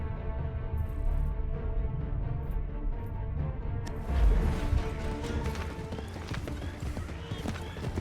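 Horse hooves in the video game Assassin's Creed 3: a steady clip-clop of galloping hooves under game music, with a louder impact partway through and a busy, layered mix after it.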